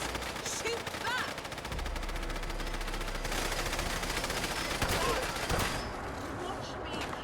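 Rapid machine-gun fire rattles continuously in the Fallout: London video game, a dense sustained fusillade with a few louder bursts and a voice shouting over the shooting.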